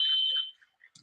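Basketball end-of-half buzzer at a women's championship game, a single loud electronic tone lasting about half a second and then cutting off.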